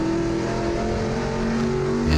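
GLTC race cars at Heartland Motorsports Park accelerating side by side in a drag race to the finish, a loud, steady engine roar with sustained harmonic whine throughout, close and continuous.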